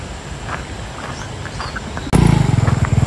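A motorcycle engine suddenly roars in nearby at a campsite by a dam, its pulsing throttle loud after a quieter outdoor stretch.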